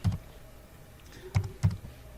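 A few sharp, close keystrokes on a computer keyboard, spaced out in small clusters with quiet gaps between, with no talking.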